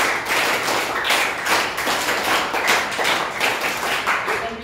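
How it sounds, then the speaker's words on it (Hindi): A class claps for a student, a dense, steady patter of many hands that carries on unbroken for several seconds, close and fairly loud. "ताली प्रारंभ"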